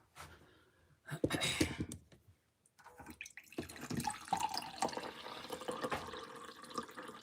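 Water runs from a tap in a kitchen with irregular bursts of splashing and flow, rising and stopping unevenly between faint handling noises.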